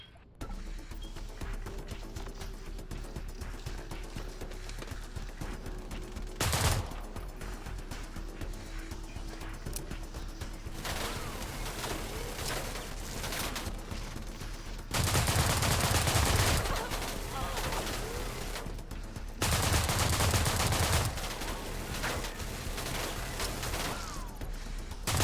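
Weapon fire in System Shock (2023), a steady stream of rapid shots across a sci-fi soundscape, punctuated by a few loud, broad blasts.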